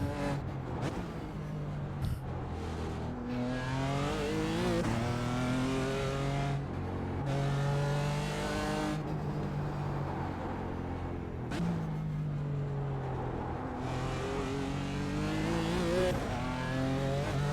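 A BMW M4 GT4 race car in the iRacing simulator on the Detroit circuit revs hard and loud, climbing through the gears with repeated upshifts and a brief lift, the engine note dominating throughout.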